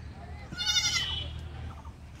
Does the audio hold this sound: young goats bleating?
yes